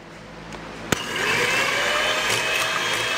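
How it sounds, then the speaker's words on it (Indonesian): An electric hand mixer beats eggs in a bowl, first a click, then a steady, loud whirring motor hum that holds constant to the end. "Kita kocok dengan hand mixer ya."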